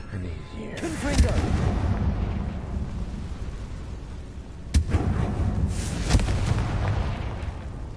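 Fiery blasting-spell explosions in the video game Hogwarts Legacy, deep rumbling booms with two sharp blasts standing out, over a continuous roar of combat noise.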